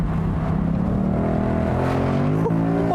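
A 2019 Ford Mustang GT Convertible's V8 exhaust roars loudly and continuously under acceleration, the engine note climbing steadily with a brief shift near the end, close and without talk.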